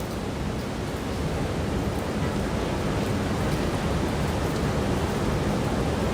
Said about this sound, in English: Huge waves coming in now.